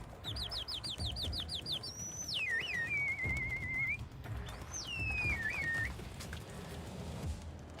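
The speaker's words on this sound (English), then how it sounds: "waves and whistles to entice them to his coop" A man whistles sharply to call pigeons to his coop in Egypt: a rapid run of short chirping notes, then two long sliding whistles with held tones, loud and clear over faint outdoor background.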